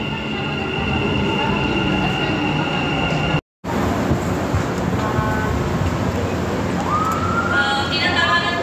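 A train in motion at a Dubai night-market area, with a steady rumbling roll and a brief dropout midway, later joined by high wheel squeals and a faint horn-like toot.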